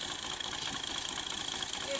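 Tractor engine running a long belt shaft that drives two tubewells with 7-inch delivery, a steady low chugging idle with a mechanical whir, continuous and close.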